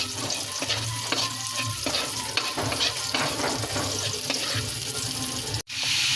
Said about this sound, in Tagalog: halu-haluin lang natin hanggang siya ay maging golden brown